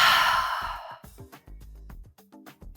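A long, audible open-mouthed exhale during a yoga class, breathy and fading over about a second, followed by quiet soft movement sounds.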